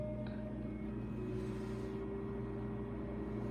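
A Purrified Air cat odor filter air purifier runs with a low, steady electrical hum and faint whir, mixed with the drone of a refrigerator in the background; quiet and unchanging, with no voices.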